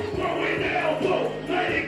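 Rock festival crowd at a weekend concert in Hampton Beach, New Hampshire, cheering in a broad, steady roar that sounds large and somewhat distant, without distinct voices standing out.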